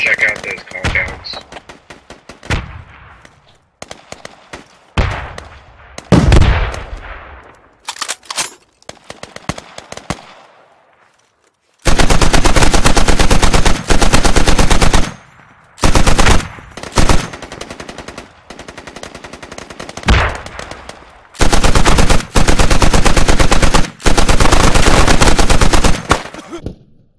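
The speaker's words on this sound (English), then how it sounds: "we're taking a lot of fire near market" Loud bursts of automatic gunfire from the Squad military shooter, long sustained volleys alternating with sparse single shots and gaps, with a player's radio voice heard between exchanges.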